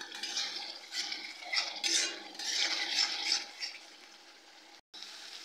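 Ginger garlic paste being stirred and sautéed in a pan for a doi katla curd fish dish, giving a soft, continuous sizzle with intermittent spoon scrapes and clinks. A brief dropout comes near the end.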